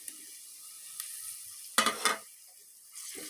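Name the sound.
tomatoes frying with ginger garlic paste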